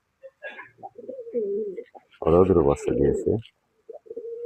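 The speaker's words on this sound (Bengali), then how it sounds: "আমার আবির কবুতর" Pet pigeons coo in a short, close, throaty burst beneath someone speaking, with soft murmuring bird sounds before and after.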